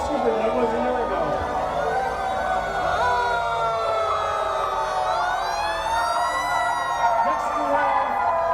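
A fire engine siren wails loudly and up close during a Santa parade, its tone rising and falling in long sweeps over a dense rumble of crowd and traffic noise.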